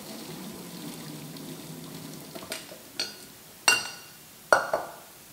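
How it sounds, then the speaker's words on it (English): Parboiled potatoes drained through a strainer for smashed potatoes: a quiet stretch gives way to several sharp splashing pours and clattering knocks, each loud and close, then trailing off. "And now we're going to just put them through the strainer."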